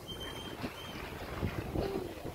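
A sailboat runs under spinnaker alone on a trip off South Australia, water swishing along the hull with wind noise buffeting the microphone, steady and fairly soft throughout.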